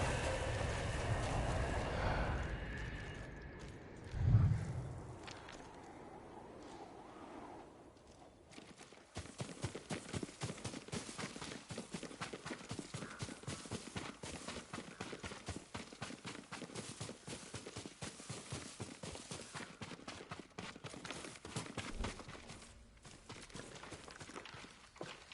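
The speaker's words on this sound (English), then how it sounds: "Yuriko's horse. She can't be far." Horse hooves clip-clop in a steady walking rhythm from about nine seconds onward in the samurai action game Ghost of Tsushima, moderately quiet under game ambience after a brief louder thump.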